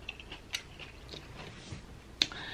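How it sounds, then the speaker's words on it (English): Raw bell pepper being chewed close to the mouth, soft repeated crunches and wet bites spread unevenly over a few seconds, with one sharper crunch near the end and no talking. "This is the most chewing I've ever done."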